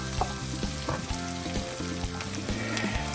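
Pork browns in a hot pan as part of an eggplant dish, giving off a loud, steady sizzle and crackle with some stirring, close up and with no talk over it.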